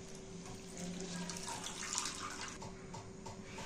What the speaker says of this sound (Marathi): आता आपण हे स्वच्छ चांगले धुवून घ्यायचे, म्हणजे आपले भजे छान कुरकुरीत होतील।